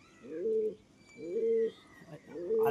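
Female pigeons with clipped wings coo in three clear, evenly spaced phrases, each a low rounded burble close by, with faint chirps in the gaps and no talking.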